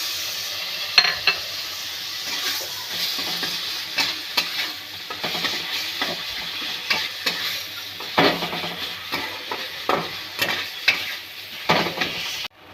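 Shrimp fry and sizzle in a pan while being stirred, a steady hiss broken by repeated scraping and clinking strokes of the utensil against the pan, close and continuous with no voices.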